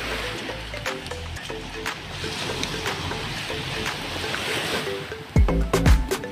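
A calm sea laps softly with gentle wave wash and light wind from a boat, and a low rumble and thump come in near the end.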